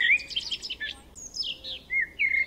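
Small birds chirp and tweet in quick, high, twittering bursts, fairly close and clear over a quiet background, with no voices.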